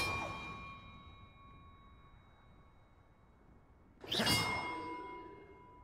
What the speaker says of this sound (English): Now hit the bells with the basic cast to play the notes on the map.